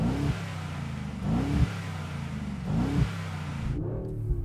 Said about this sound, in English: This is what my car with a standard exhaust in noisy mode sounds like.